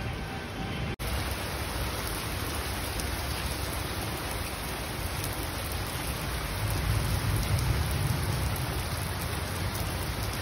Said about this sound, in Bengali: ভালোই বৃষ্টি পড়ছে,